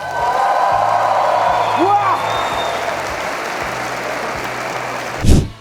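An audience at a comedy roast applauds in a steady, moderately loud patter of claps, with brief voices and a whoop rising over it and a sharp thump near the end.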